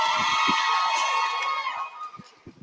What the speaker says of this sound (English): What an enthusiastic crowd.